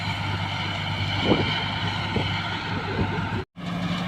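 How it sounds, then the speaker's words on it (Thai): Strong wind buffets the microphone near an old 2014 rice combine harvester in a field, a steady loud roaring rush with gusty swells and a brief dropout near the end. "ลมแรงครับลมแรงหน่อยนะ วันนี้ อาจจะมีเสียง ลมจักหน่อยครับ"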